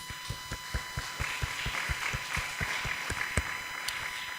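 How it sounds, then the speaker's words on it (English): Applause at a college poetry and book review competition, a sparse, rhythmic run of individual claps, fairly faint over a steady background hum, with a few sharper claps near the end. "Everybody here today deserves a big round of applause."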